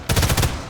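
Machine gun fire in the shooter game Sniper Elite 5 on the Among the Rubble map, a loud, close rapid burst of about five shots in under a second.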